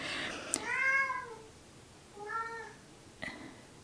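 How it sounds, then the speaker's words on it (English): A house cat meows twice with drawn-out, tonal cries, a longer call followed by a shorter one after a pause, close by indoors in a quiet room. "You may hear my kitty Merlina in the background"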